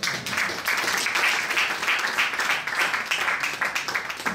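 A church congregation claps together in a steady, rhythmic beat, a sustained wash of many hands at moderate volume with no voices rising above it.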